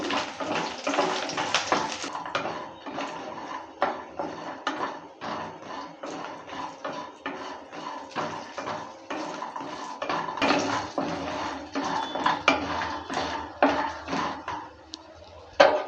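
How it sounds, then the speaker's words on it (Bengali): Lentil dumplings (bori) fry in hot mustard oil, giving a steady dense sizzle and crackle with frequent sharp pops and utensil clinks, close and continuous throughout. "এবার দিয়ে দিচ্ছি বড়িগুলো প্রথমে বড়িগুলোকে ভালো করে একটু ভেজে নেব"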